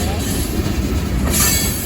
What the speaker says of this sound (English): Wow, all that freight on 2 locomotives.